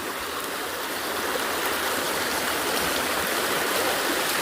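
Stream water pours at Chamanu waterfall in Tripura, a loud, steady, close rush of flowing water that continues unbroken throughout.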